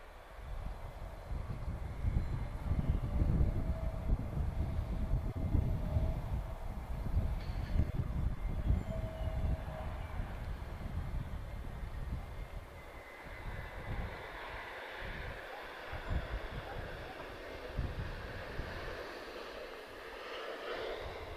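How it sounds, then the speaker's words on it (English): An Airbus A321neo arriving from Ibiza touches down at Lisbon Airport, its steady, fairly loud jet engine roar rumbling throughout and easing slightly in the second half as it rolls out. "This is an A321neo. She's about to touch down now."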